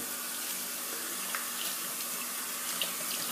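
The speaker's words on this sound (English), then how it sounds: "Just going to rinse off my hands." Tap water runs steadily into a sink while hands are rinsed during a shave with Gillette Red Tip and Boots shave soap, a continuous close hiss with faint splashes and no talking.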